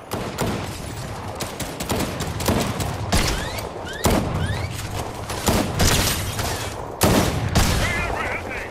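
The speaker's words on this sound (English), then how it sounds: "We're getting shot at." Gunfire in Fortnite, a Chapter 5 Season 1 Zero Build match: loud bursts of rapid shots and sharp cracks come in several clusters with brief gaps, close and punchy throughout, with thuds mixed in.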